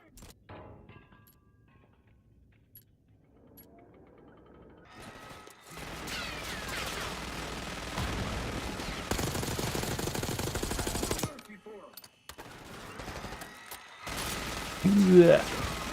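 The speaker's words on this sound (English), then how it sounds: "Stay low until that minigun stops spinning." A video-game minigun whirs and spins up, then fires in rapid, rattling mechanical bursts that build through the middle and end of the clip.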